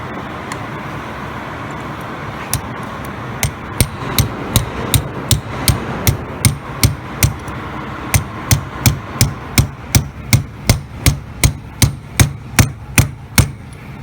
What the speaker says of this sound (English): drive your new roll pin in